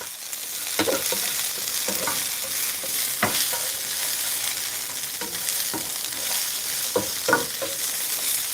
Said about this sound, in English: I'm enjoying that sizzle. That sounds amazing.